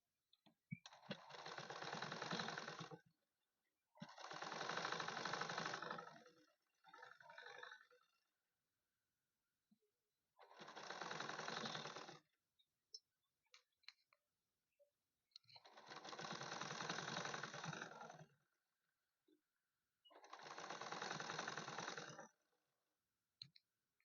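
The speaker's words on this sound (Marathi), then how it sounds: "तर मी इथून सनी प्रेस शिलाई करून घेत आहे." Sewing machine press-stitching a blouse, running in five or six bursts of a few seconds each with short pauses between, a fast steady whirring chatter, close and fairly quiet.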